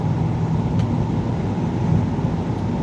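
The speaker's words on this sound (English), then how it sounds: "pulling the car behind this big U-Haul" A big U-Haul truck cruising along while towing a car, its engine and road noise forming a steady, loud low rumble throughout with no talking.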